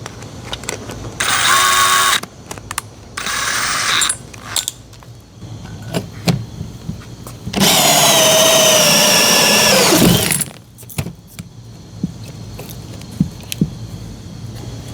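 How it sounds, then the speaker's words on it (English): A power drill drills holes for a Studor vent in a washing machine box install, whining in several bursts, two short runs followed by a longer high-pitched one, with scattered clicks and knocks between. "Let's drill some holes for our Studer vent."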